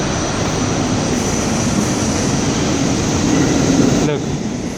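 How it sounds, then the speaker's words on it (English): A loud, continuous rumbling roar of a New York City subway train pulling into a station, broadband and steady, easing slightly toward the end. "Look, this is incoming train."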